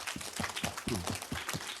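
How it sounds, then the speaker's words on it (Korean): Children applauding for a classmate during a Korean church Bible lesson, scattered hand claps in a loose rhythm with an adult voice speaking over them. "박수"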